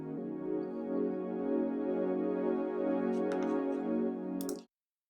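Two Serum wavetable synthesizer oscillators drone together in a thick, sustained chord-like tone for several seconds before cutting off abruptly.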